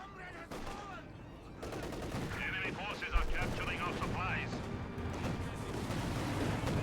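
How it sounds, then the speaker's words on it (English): A Flak Panzer's 30mm flak gun in Company of Heroes 2 fires rapid bursts amid battle effects and distant explosions, under steady commentator talk. "ripping through them there with its 30mm flak gun"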